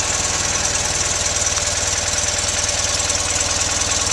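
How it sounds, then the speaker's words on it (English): A 1965 BMW R69S motorcycle engine idles steadily and smoothly, a continuous low rhythmic pulse close by that barely changes in level, with no talk over it. "A little bit of gas, a little bit of throttle. Wow. Very smooth running, low mileage bike."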